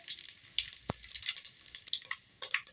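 Mustard seeds and cumin crackle and sizzle in hot oil in a pan, with sharp irregular pops over a soft hiss. The frying is close and fairly quiet, and no one speaks.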